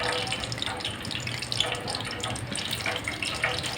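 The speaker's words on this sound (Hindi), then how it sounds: "नाज़रीन, प्याज हमारा फ्राई हो रहा है।" Onions sizzling in hot ghee: a steady, close hiss and crackle, continuous and broad, with faint splashing pops rising and falling throughout and no speech.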